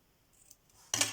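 Scissors cutting pink paper at a craft table, a few faint snips followed by one louder, sharper close cut near the end, with no talk.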